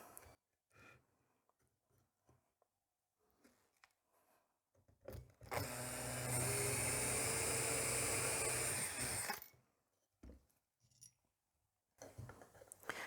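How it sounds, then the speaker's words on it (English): A power drill driving screws into wood whirs in one sustained burst of several seconds while building a wooden soap mold, close by, with quiet handling sounds before and after. "I'm going to drill my first two there and tighten it"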